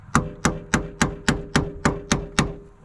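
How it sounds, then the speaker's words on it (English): A hammer strikes a large flathead screwdriver to tighten the lock collars on D2 coilovers fitted to a Mitsubishi Evo III. Nine sharp, evenly spaced metallic knocks ring out close and loud, each decaying quickly. "what you're supposed to do is get a big flathead and use a hammer"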